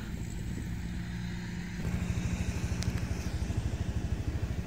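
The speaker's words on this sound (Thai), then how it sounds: "ขี่มอเตอร์ไซค์พาเพื่อนๆไปดูวิวต่อไป" A motorcycle ridden along a rural road toward rice fields, its engine starting a rapid, steady putter partway through that stays close and fairly quiet, with no talk.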